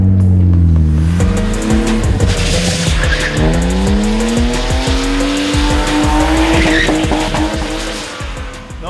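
A car drifts in figure eights around a cone without the handbrake: loud, close tire squeals rise and fall with each turn over a revving, wavering engine, and no one speaks.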